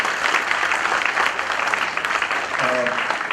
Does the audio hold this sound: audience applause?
yes